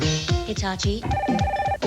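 A telephone rings in a TV commercial, its bell partly buried under talking voices and a jingle.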